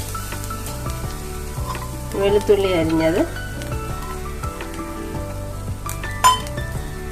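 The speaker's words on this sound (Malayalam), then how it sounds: "ഇനി നമുക്ക് ഈ തേങ്ങയെ വറുത്ത് കൊണ്ടുവരാം" Grated coconut roasting in a pan with garlic and other ingredients for Kerala chammanthi podi, a soft steady sizzle with occasional clinks of a stirring spoon against the pan while a person talks over it.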